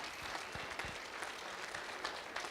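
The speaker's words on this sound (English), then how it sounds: "So round of applause for Trevor and Jenny." Wedding guests applauding a couple, a soft, somewhat distant wash of clapping with a few louder claps, lasting a couple of seconds.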